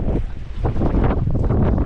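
Strong wind buffets the microphone while people fish from a boat off an island near Surat Thani, Thailand. The noise is a loud, continuous roar with gusty surges.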